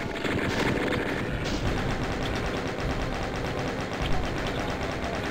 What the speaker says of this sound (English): Is where you get the chain gun, and you get to meet the new enemy in Doom 2, the chain gun zombie